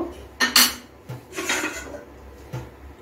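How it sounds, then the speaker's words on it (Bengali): A lid clanks onto a cooking pot of vegetables simmering on medium heat, with a few loud close metallic knocks and rattles spaced across a few seconds and no talk. "এখন ঢাকা দিয়ে দিচ্ছি"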